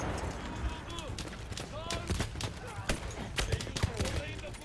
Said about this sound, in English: This is where we're going to use the anti-tank rifle to take him out